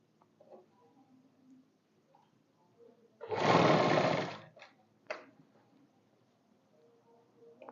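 A sewing machine runs in a single loud burst of about a second while a kurti sleeve is stitched on, with quiet ticks and handling clicks around it and no talk.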